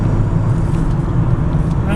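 A Citroen Berlingo van converted to run on LPG hums steadily, its engine a low, even drone with no revving or change in pace, fairly close and constant throughout.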